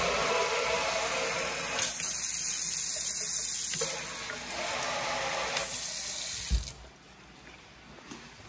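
Water running hard from a tap into a kitchen sink in a spa walkthrough, a loud steady hiss and splash that cuts off near the end, no talk.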